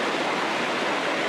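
Stream water rushing through a kokanee salmon spawning channel, a steady broad hiss and splash of flowing water, close and continuous with no talk.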